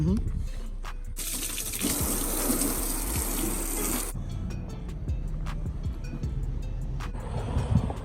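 Water sprays hard against a car during a wash before it is dipped in gold peelable spray paint, a loud steady hiss running about three seconds, with lighter splashing and dripping before and after.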